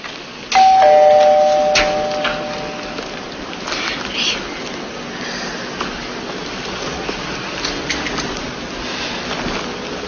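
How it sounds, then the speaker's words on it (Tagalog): A doorbell chime rings once at a house front door with a clear ding-dong tone, followed by quiet room ambience and faint background noise. "Ako na napipindot ang doorbell."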